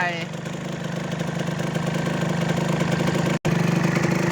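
A Victor 150 motorcycle engine idles close by, with a faint piston ring noise in its steady running hum that continues unbroken apart from one brief cut near the end.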